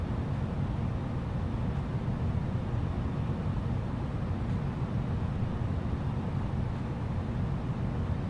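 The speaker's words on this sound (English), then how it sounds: "If you guys can listen, you'll hear those engines howl." A320neo jet engines in Microsoft Flight Simulator give a steady, broadband roar on landing approach, a continuous even drone with no breaks and no voices over it.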